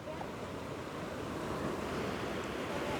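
Sea waves wash steadily onto a beach, a continuous soft roar of surf with wind rushing across the microphone, no voices heard.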